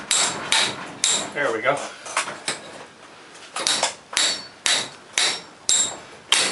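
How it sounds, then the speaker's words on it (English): A hammer repeatedly strikes a rusty garage door torsion spring and bracket, sharp metallic clanks at a steady, slightly uneven pace, with a short spoken remark partway through. "you have to just hit the spring, hit this, however you can get it off"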